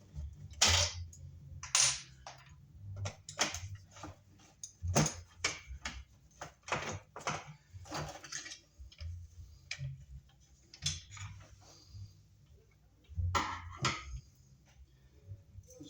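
Screws being taken out of the back cover of an electrical box give a run of sharp clicks and ticks at an uneven pace, with quiet gaps between them and no talking.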